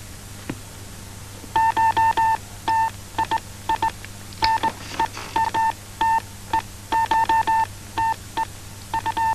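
Morse code telegraph signals from a Romanian film: a steady high-pitched tone keyed on and off in rapid bursts of dots and dashes, with short pauses between groups, loud and alone with no voices.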